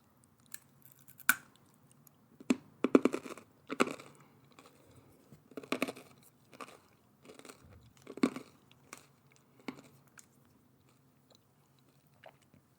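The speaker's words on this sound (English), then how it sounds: "this is incredibly crunchy" Crisp, crunchy chewing of a cinnamon Japanese snack in separate bursts, close up, with quiet pauses between bites.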